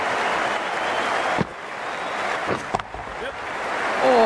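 A cricket crowd during an India versus Pakistan match roars in a broad, steady wash of cheering and applause after a boundary, loud and sustained with a few sharper bursts near the end.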